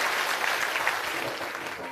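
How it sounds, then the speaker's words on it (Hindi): Applause from a village crowd gathered in the heat for an outdoor public meeting in Morsanda village, Chausa block, Madhepura; steady, dense clapping fills the whole moment with no talk over it. "एक बार जोरदार ताली बजाइए"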